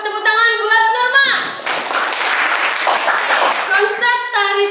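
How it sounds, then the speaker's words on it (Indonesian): A burst of hand clapping from a classroom group applauding a student, loud and close, between short stretches of a sustained tonal voice or sound before and after. "Tepuk tangan buat Norma."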